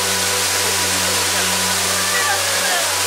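A waterfall pours with a constant, dense hiss and rush, loud and even throughout, with a low steady hum underneath and no talking.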